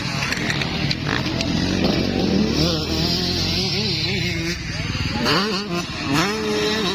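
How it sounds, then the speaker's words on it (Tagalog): A damaged motorcycle's engine drones and revs loudly throughout during a motorcycle race in Balingasag, with a voice talking excitedly over it. "Okay, nadaot ang motor ni Stanley."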